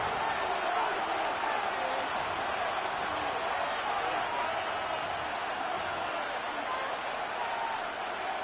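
A football stadium crowd roars in a dense, sustained wash of cheering and noise ahead of a third-and-goal play, with a commentator talking over it.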